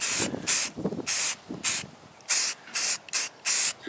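Primer sprayed from a can onto rusted spots of a utility trailer: about nine short, loud hissing bursts, each roughly a quarter to half second long, separated by quiet gaps.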